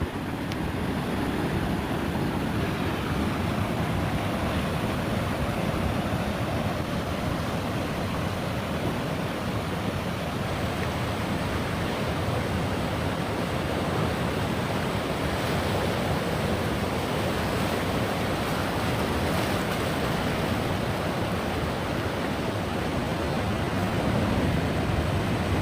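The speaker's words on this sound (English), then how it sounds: "We are at the Pacific Ocean." Pacific Ocean surf at the La Jolla tide pools at midday low tide makes a constant, dense roar of breaking waves and rushing water, steady and unbroken throughout.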